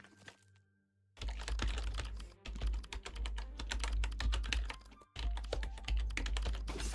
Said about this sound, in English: I'm typing the L!